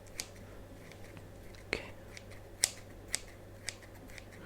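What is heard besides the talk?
scissors cutting in a medical ASMR roleplay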